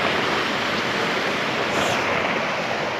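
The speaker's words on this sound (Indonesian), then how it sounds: "ini aku udah di Air Terjun Tembulun" Waterfall at Air Terjun Tembulon in Indragiri Hulu, heard close: a constant, loud, broadband rush of falling water with no pauses or voices.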